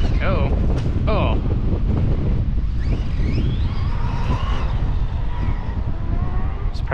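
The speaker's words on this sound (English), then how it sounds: "Wind just came up like mad." Strong wind gusts into the microphone outdoors as a continuous loud roar and buffet, with a person talking and exclaiming over it.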